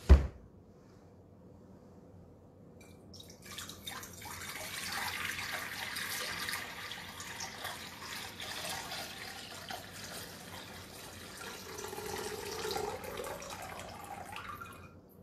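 Water pours into a basin during a Maundy Thursday foot-washing, beginning after a short bump and flowing as a soft, continuous splash that swells and rises in pitch near the end as the basin fills, with no talking.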